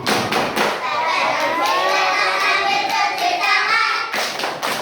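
Children chant the ablution clapping song together, their voices loud and continuous with rhythmic hand claps marking the beat near the start and end.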